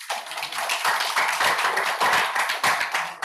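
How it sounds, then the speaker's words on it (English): Applause from participants at a forestry training programme in Sulawesi, Indonesia, a dense burst of clapping from a small indoor group that runs steadily for about three seconds with no voices over it. "Let's give a big applause for us"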